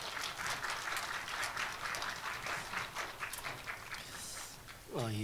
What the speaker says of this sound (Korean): 강사 목사님 나오실 때 우리 박수로 환영하겠습니다